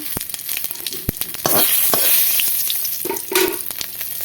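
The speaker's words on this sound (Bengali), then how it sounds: "এবার এই যে আমি ওই তেলেই দিয়ে দেব একটা তেজপাতা আর শুকনো লঙ্কা দিয়ে দিয়ে দেবো গোটা কয়েকটা জিরে" Bay leaf, dried red chilli and cumin seeds sizzle loudly in hot oil, a dense close crackling hiss with sharp pops and a surge as the spices hit the pan, with no talking.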